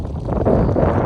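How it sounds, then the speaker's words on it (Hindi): Strong wind roars in a Himalayan snowstorm on a mountain trek, a steady, loud, buffeting rush across the mic for about a second with no voices. "इतना तेज़ हवाएं चल रही है"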